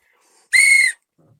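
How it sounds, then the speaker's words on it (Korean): A single short, shrill whistle blast, loud and close, lasting under half a second in an otherwise quiet moment. "호루라기입니다."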